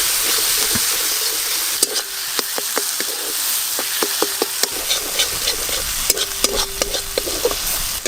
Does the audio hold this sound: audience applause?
no